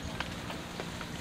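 Rain falls steadily outdoors in the Mekong Delta countryside of southern Vietnam during an evening meal, a faint, even hiss with a few scattered drop taps and no clear speech.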